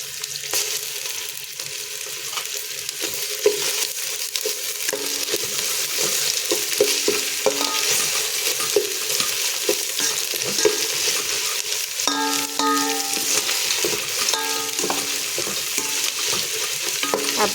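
A spoonful of ginger sizzles in an oiled pan, with a steady frying hiss throughout and repeated metallic spatula scrapes and taps as it is stirred back and forth.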